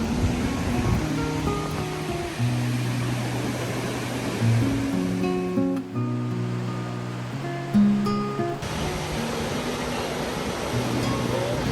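Constant roar of rushing water from a waterfall viewed off a suspension bridge in Hualien, Taiwan, a dense steady wash that dips briefly midway, with faint tones over it.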